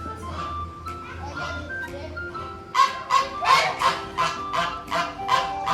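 Poultry in a pen at an ostrich park in Saint-Eustache, Quebec, give a run of loud honking, squawking calls in a steady rhythm, following murmured talk and children's voices.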